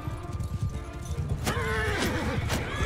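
Horses neigh and whinny in the Mount and Blade Bannerlord battle game, two loud rising whinnies close by over a running clatter of hooves and battle noise.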